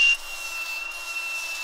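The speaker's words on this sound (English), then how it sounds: "I need a grinder real quick." An angle grinder trims metal parts for a four-link suspension on a one-ton truck. It gives a steady, continuous abrasive hiss with a thin ringing whine that holds evenly throughout, with no voices.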